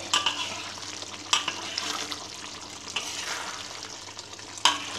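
Sambalado tanak stirring in a frying pan: a steady sizzle and bubbling hiss with a few clanks from the spoon scraping the pan, close and continuous.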